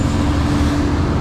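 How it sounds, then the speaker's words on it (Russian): A bus pulling away on a road ahead, heard from an electric bike: a steady, loud engine rumble and traffic drone that continues throughout. "Впереди автобус, сейчас он уедет, я поеду."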